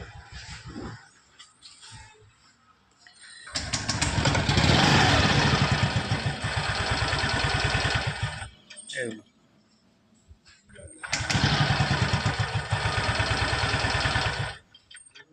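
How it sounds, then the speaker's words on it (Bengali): A motorcycle with its FI light on is cranked and started, rumbling loudly for a few seconds and then cutting out when the throttle is released, twice in a row, with quiet pauses between attempts. "দেখুন স্টার্ট হচ্ছে না, দেখুন অ্যাক্সেলেটার ছেড়ে দিলেই বন্ধ হয়ে যাচ্ছে"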